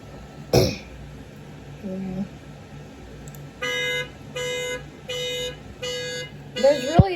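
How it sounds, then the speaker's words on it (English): Panic alarm on a 2013 Toyota Highlander sounding in five evenly spaced bursts of steady horn-like blaring, loud and close after a few thumps and rustles, with a brief voice-like noise near the end. "today we are doing the 2013 Toyota Highlander panic alarm demo"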